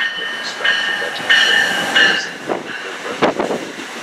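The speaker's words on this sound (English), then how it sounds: "Now arriving on track 4 is the New Jersey Transit 315 outbound train to Trenton." An outbound New Jersey Transit train pulls into Metropark station with squealing wheels and ringing metallic tones, then clattering, thumping wheel-over-joint sounds as the cars roll past close by.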